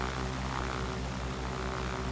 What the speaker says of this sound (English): Now we're flying the Cyrus SR-22, I believe is what it's called.